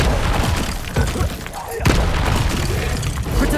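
Incendio fire-spell blasts boom repeatedly in the video game Hogwarts Legacy, loud and punchy, with a voice calling out over the bursts.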